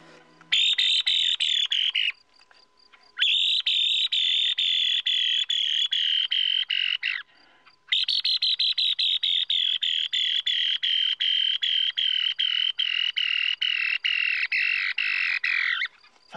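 A thrush gives a distress call, long, piercing, harsh screeches in three sustained bursts separated by brief gaps, loud and close.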